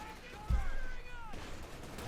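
A sharp tank gun shot followed by a ringing, whistling tail in Company of Heroes 2, a Panther trading fire with an anti-tank gun, fairly close and loud, with a voice talking faintly underneath.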